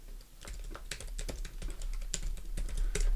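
A computer keyboard clatters with rapid, steady keystrokes as a folder name is typed on a Windows 10 PC, close and clear with no talking over it.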